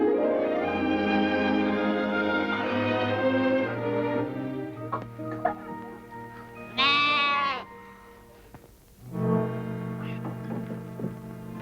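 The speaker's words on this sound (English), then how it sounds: "My lambs, are they..." Lambs bleating in a rural farm setting, several drawn-out, wavering cries close by, one after another with brief gaps, a higher shrill call standing out in the middle.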